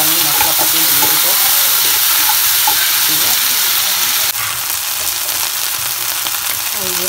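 Garlic, ginger and spice paste sizzles loudly and continuously in a hot pan, a dense bright hiss broken by light scrapes and stirring.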